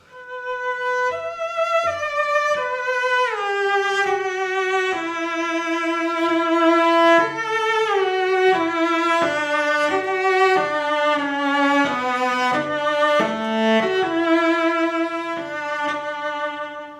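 A solo cello plays a lyrical phrase from Dvořák's Cello Concerto, notes gliding and swelling through hairpin dynamics in clear sustained phrases, with no voices.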